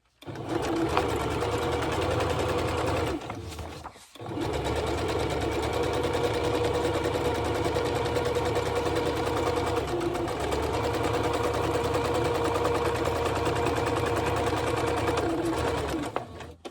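A sewing machine stitches in a fast, even mechanical chatter, stopping briefly for a moment before running steadily again until it winds down.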